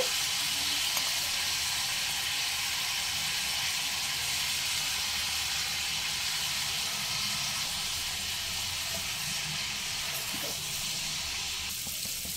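Mutton fries in a pan with shahi haleem masala powder, giving an even, unbroken sizzling hiss that holds steady at moderate loudness for several seconds with no voices.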